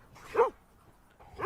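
A dog in a pet hotel video game gives two short, soft barks or yips about a second apart, fairly close and alone in an otherwise quiet scene.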